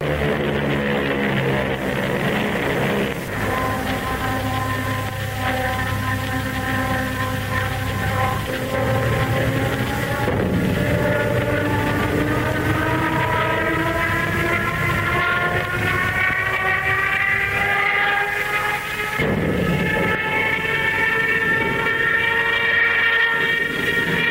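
A loud, sustained Junkers Ju 87 Stuka dive bomber siren wails, its droning tone slowly climbing in pitch over roughly twenty seconds, with no voices.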